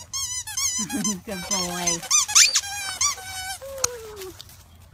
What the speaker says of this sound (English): Some of our dogs like the squeaky toys.